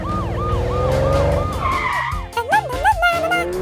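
A red Ferrari skids loudly with squealing tires, mixed with a rising and falling siren-like wail and sharp bursts as it brakes.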